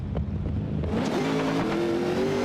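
Drift trucks racing side by side at Rockingham blare close and loud, engines revving hard with a rising, wavering note and tire noise as they cross the finish line together.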